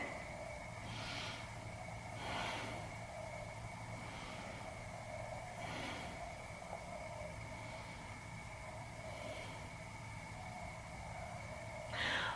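During a yoga forward bend, a few quiet, audible breaths come through at irregular intervals, soft breathy exhales over a low, steady background hum.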